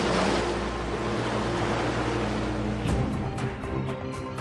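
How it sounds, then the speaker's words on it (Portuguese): HMS Coventry, a warship in the Falklands conflict, sinking as waves engulf her: a steady, loud wash of rushing sea and surf, with a churning surge near the end. "O HMS Coventry é engolido pelas ondas."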